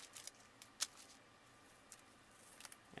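Scissors cutting thin 2-3 ounce leather for a knife sheath lining: faint, crisp snips and rustles, scattered irregularly over a quiet background.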